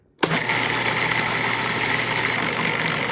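A kitchen appliance motor kicks on abruptly and runs with a steady, loud grinding whir while grinding food for chicken gyros. No voices are heard.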